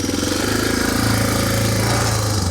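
A motorcycle engine runs in first gear as the bike is loaded into a van, a close, loud, rapid pulsing chug that holds steady before easing slightly at the end.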